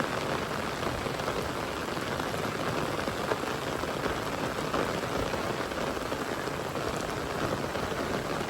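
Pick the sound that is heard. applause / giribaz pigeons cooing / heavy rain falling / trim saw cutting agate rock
heavy rain falling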